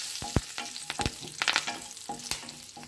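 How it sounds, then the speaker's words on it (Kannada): Oil tempering sizzling and crackling in a pan as curry leaves are added for a wedding-style ivy gourd palya, sharp spattering pops over a steady fry, close and alone. "ಒಗ್ಗರಣೆ ಆಗ್ತಾಯಿದೆ. ಇದಕ್ಕೆ ನಾನು ಕರಿಬೇವಿನ ಸೊಪ್ಪನ್ನ ಹಾಕ್ತಾಯಿದ್ದೀನಿ."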